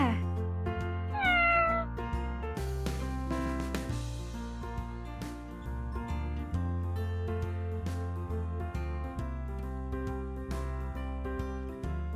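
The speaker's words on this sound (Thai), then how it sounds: "น้องคริสเธอก็เลียขนมแมวเลียแผลบๆเหมือนเคยนะคะ" A cat meows repeatedly over a lickable cat treat in chicken and liver flavour mixed with goat milk, the calls rising and falling over steady background music that runs throughout.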